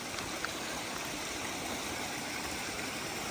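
A mountain stream on the Appalachian Trail flows in a steady, soft rushing wash of water, continuous and moderately distant, with no voices over it.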